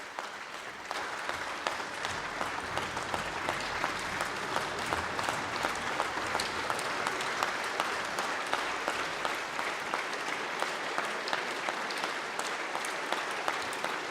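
Sustained applause from lawmakers in the Ukrainian parliament chamber for the Marshal of the Polish Sejm, a dense, steady roar of many hands clapping that carries on evenly for the whole stretch with no talk.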